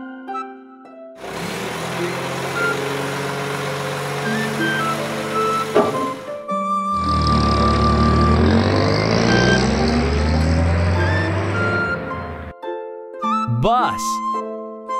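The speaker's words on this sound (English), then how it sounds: "Garbage truck." A garbage truck sounds loud and steady for most of the clip, with engine rumble and mechanical noise. It is broken by a short pause and followed by a brief rising musical tone near the end.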